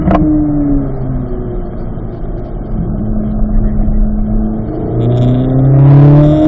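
A car engine on a race track drones steadily through gear changes, pitch sliding down then climbing as it revs up again near the end, loud and close.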